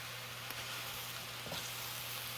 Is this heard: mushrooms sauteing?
yes